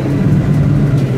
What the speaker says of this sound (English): You can just hear all the exhaust and all the horsepower on the street right now